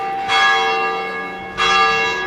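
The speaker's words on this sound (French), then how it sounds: "dès que les cloches auront cessé" Two loud church bell strikes about a second apart, each ringing out and fading with a long resonant hum.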